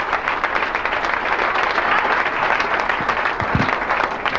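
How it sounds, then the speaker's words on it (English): An audience gives a stand-up comedian a round of applause at a comedy club, a loud, dense wash of clapping that holds steady throughout. "please, a big round of applause. Chris Hobbs"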